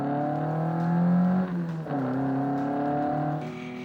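Vintage race cars pull off the start in race 2, one engine note droning steadily and shifting in pitch as it accelerates, close and continuous with a brief dip partway through.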